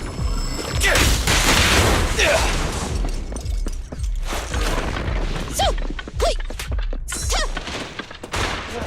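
Rapid gunfire and booming blasts in the action video game Zenless Zone Zero, loud and continuous with thuds and crashes, mixed with game voices calling out over the combat.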